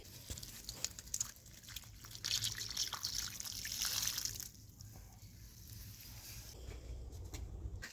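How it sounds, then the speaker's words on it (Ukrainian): Fertilizer solution is poured onto the soil around a spruce in an autumn garden, a steady close trickle and splash of liquid running for several seconds, louder in the first half then easing off. "І зараз польємо цим розчином."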